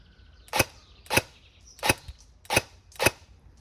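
A Cyma SR25 airsoft rifle fires five sharp semi-automatic shots, close and crisp, spaced roughly half a second apart with quiet gaps between.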